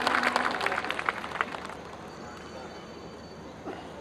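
An audience applauds at a Hindi poetry gathering in a Navi Mumbai residential complex: dense clapping for about two seconds fades to room noise, with a faint voice toward the end.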